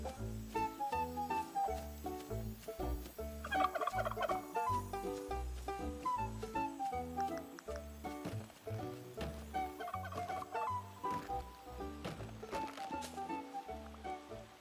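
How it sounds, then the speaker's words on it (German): A chicken clucks in the Luma Island video game, short scattered calls heard faintly over steady, looping background game music. "Frau Huhn? Da ist sie."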